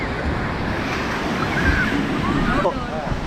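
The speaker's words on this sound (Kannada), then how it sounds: "ಓ ನೋಡಿ ವೇವ್ಸ್ ಎಲ್ಲ ಬರ್ತಾ ಇದೆ" Surf rolls onto the shore at Panambur beach near Mangalore during a boat ride, a steady wash of breaking waves with wind buffeting the microphone and faint voices underneath.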